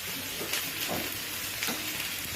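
Okra frying in a pan with spices, tomato paste, coriander powder, dried chilli and turmeric, giving a dense continuous sizzle with a few soft stirring scrapes, close up and alone.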